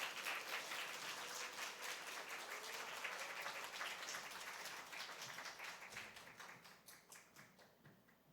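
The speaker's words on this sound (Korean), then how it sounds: "우리 박수로 환영하겠습니다" A church congregation in Gimhae applauds to welcome a pastor: soft, fairly distant group clapping holds steady, then fades to a few scattered claps toward the end.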